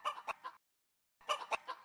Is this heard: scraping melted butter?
no